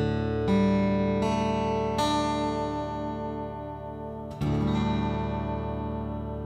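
An acoustic guitar in DADGAD tuning is strummed four times, each chord ringing out and slowly decaying, with a longer sustain before the final strum and no voices.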